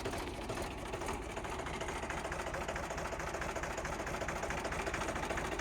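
Mahindra 295 Super Turbo tractor engine idling in Amreli, a steady close mechanical rumble and knock running unbroken throughout, with no speech.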